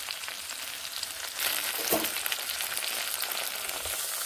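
Flat beans in a hot pan, with a small splash of water added partway through so the sizzle bursts louder and stays as a bright, steady hiss.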